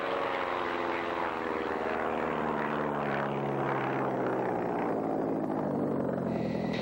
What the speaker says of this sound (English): doing the torque roll now, just rotating and rolling around the torque of the engine, and again sliding back down